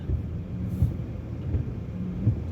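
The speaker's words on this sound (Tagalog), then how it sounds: "Ang lakas ng ulan" Heavy morning rain pours steadily with low, rolling thunder rumbling beneath it, a dense continuous wash with a few louder thumps and no talking.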